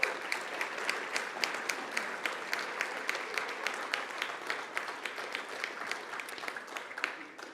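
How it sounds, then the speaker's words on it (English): Steady applause from an audience at an education week awards ceremony honouring winners, a dense continuous patter of many hands at moderate distance, holding evenly for several seconds. "A round of applause for the winners."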